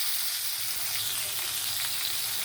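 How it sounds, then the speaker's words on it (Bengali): Potatoes frying in hot oil already used to fry rohu fish, a steady close sizzle with faint stirring and crackle throughout, no talking. "এবার ওই একই তেলে মাছ ভাজলাম, ওই তেলে আমি আলুগুলো এবার ভেজে নেব।"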